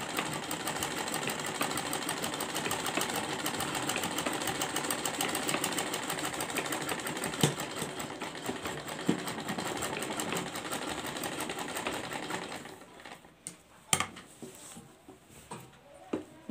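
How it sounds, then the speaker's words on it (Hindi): A sewing machine stitches a kurti near its buckram lining with a steady, continuous mechanical whir for about twelve seconds, then stops, leaving a few faint handling clicks and taps. "पूरे में हम ऐसे ही सिलाई लगा लेंगे।"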